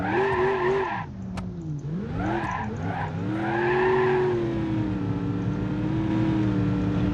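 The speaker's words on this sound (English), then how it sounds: "seeing the car crash and everything is being bent" A car skidding and crashing in the driving game BeamNG.drive, with a revving engine whining up and down and tires squealing loudly in swooping bursts, then a long sustained engine drone.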